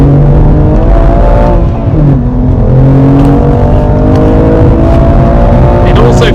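A BMW M2 Competition with a manual gearbox accelerates hard while warming its tyres, a loud, steady engine drone whose pitch climbs and shifts through gears, heard from inside the car with voices over it.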